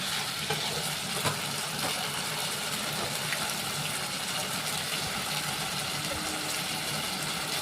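A curry base with potatoes sautéing in a pan gives a steady, close sizzle with occasional stirring scrapes, constant and even throughout, with no voices.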